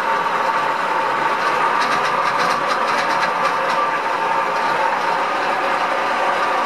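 A Van Norman 22L milling machine runs with its power feeds engaged, giving off a loud, steady mechanical drone with a grinding, rattling edge that holds unbroken throughout.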